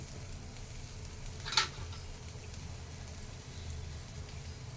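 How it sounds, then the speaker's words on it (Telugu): Onion frying in a little oil, a faint steady sizzle close by with one brief sharp clink or scrape partway through, and no talking. "అది ఉల్లిపాయ ఏగుతూ ఉంటుంది."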